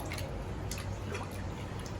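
Pieces of mutton are rinsed by hand in water, giving faint splashes, drips and wet squelches in an irregular rhythm close by.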